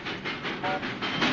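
Animated-film train, heard as a fast rhythmic chuffing of repeated steam puffs, about six bursts in just over a second, loud and close with no talking.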